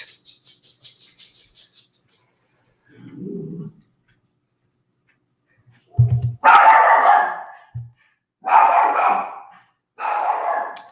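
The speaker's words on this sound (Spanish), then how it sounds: "Y tengo un perro." A dog gives a few separate barks and yips, loud and close, with short quiet gaps between them and a faint chirping near the start.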